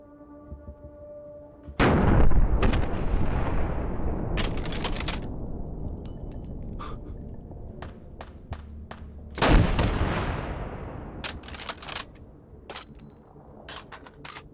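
Bursts of submachine gun fire from the Garage SMG in the VR shooter H3VR, two loud close volleys about seven seconds apart, each trailing into a booming echo, with a few scattered single clicks and shots between them and no talk.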